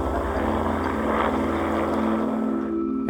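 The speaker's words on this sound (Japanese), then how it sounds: "そこで今ヘリコプターを呼んでレスキューをしてもらっているところです。" A rescue helicopter on Manaslu, a steady, droning rotor and engine roar that holds at an even level throughout, heard from a moderate distance with no voices.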